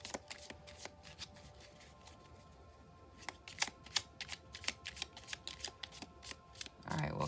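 Tarot cards shuffled by hand in a few small bunches at a time, giving quick papery riffles and soft slaps that grow louder and denser in the second half, with no talking over them.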